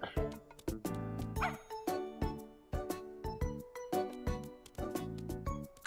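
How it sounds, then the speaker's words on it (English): Ghost Dog, a guide character in a LEVEL5 video game, gives a run of short, bright barks and yips in a steady rhythm, close and clear with no talk over it. "Ghost Dog. It's this game's navigation system."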